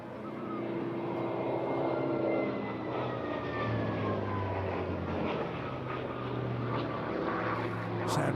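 A propeller aircraft engine drones loudly and steadily at an airshow, a deep sustained roar with slowly shifting pitch, heard without voices.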